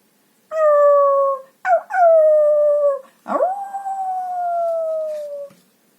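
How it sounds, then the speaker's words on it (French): Wolves in a forest at night howl in long, clear, sliding tones, one howl after another with short breaks between, close and loud against a silent background. "Les loups fixèrent alors l'étrange lumière et se mirent à hurler."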